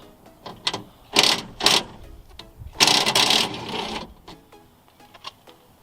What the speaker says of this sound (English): So we'll go ahead, remove that bolt now.